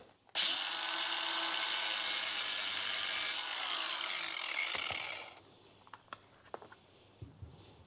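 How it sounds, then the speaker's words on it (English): A metal band clamp on a CV boot of a Land Cruiser 200 being cut with a power cutting tool; a loud, steady high-pitched grinding whine lasts about five seconds, then stops, followed by a few scattered clicks and taps. "I'm going to spin this around 180 degrees, and I'm going to cut it there."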